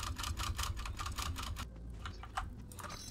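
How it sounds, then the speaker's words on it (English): Repeated presses on a computer keyboard, rapid evenly spaced clicks that tap out a steady rhythm, then slow to a few scattered taps, close and clear with no talking. "Hopefully my keyboard isn't too loud, especially when I'm doing repetitive key presses like this."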